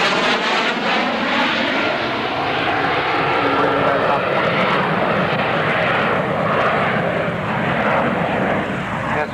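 A Harrier GR7 jet at an aviation show makes a loud, continuous roar that sweeps past with a shifting whine, with a voice talking over it throughout.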